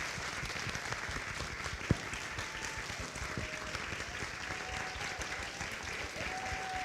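Audience at a fall convocation gives a sustained round of applause for community storytellers, even dense clapping throughout with a few faint whoops and a voice briefly audible over it.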